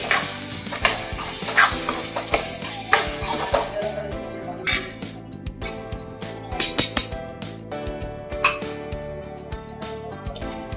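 Red chilli powder is stirred into sizzling pav bhaji, a constant close fry under repeated clinks and scrapes of a metal spoon against the pan.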